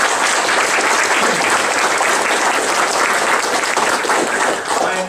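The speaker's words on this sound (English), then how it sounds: "let's give her a round of applause" A crowd applauds steadily, dense clapping that stays loud and even from start to finish, with no other sound standing out.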